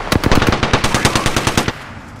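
Automatic gunfire in Apex Legends: a single rapid burst of about a dozen and a half evenly spaced loud shots rattles off close up over roughly two seconds, then cuts to quiet ambience.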